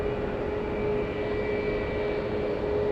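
An airplane flies near SFO airport, a steady, unbroken engine roar with a constant tonal hum, fairly loud and continuous across the whole stretch with no voices.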